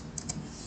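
Two quick keystrokes on a computer keyboard while entering a web address to download Ubuntu, crisp clicks close up over a low steady room hum.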